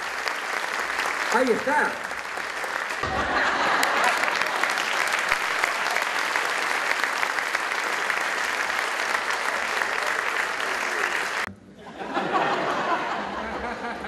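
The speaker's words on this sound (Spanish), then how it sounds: "El aplauso para Andrea." A live magic show crowd gives sustained, loud applause for a woman named Andrea, dense clapping with scattered laughter and a brief voice at the start, cutting off near the end before resuming.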